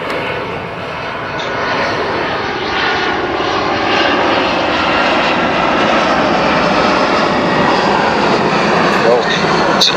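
A loud, steady roar of an airplane passing overhead, a broad continuous rumble holding for the full ten seconds without fading.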